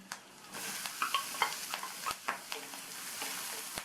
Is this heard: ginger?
yes